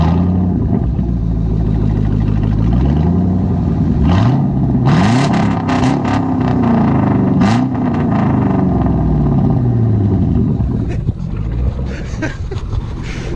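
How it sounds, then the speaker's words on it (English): A straight-piped 5.3 V8 GMC Canyon truck idles loudly nearby with a rough, throaty exhaust. Its revs rise and fall repeatedly, in swelling blips, throughout. "So I'm gonna go ahead and get him to start it up to get an exhaust clip."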